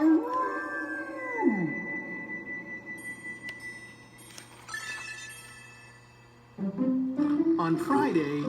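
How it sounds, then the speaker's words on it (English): A dog howls loudly in a long rising-and-falling wail, then quieter tones and background, with a second burst of howling at the end; close and prominent. "He howled instead, very loudly."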